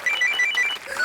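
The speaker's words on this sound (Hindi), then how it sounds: "चंकी पांडे साहब का फोन आया" A telephone rings with a quick, warbling electronic trill that repeats in rapid pulses, loud and close for about a second.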